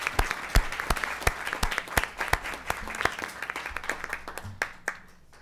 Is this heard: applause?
yes